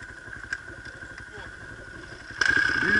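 An enduro motorcycle engine idles with a low, rapid putter, then revs louder near the end, with people talking nearby in a village setting.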